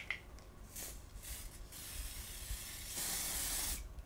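Several short hissing spritzes from a perfume spray bottle, close by, the last one longer and louder, separated by quiet pauses.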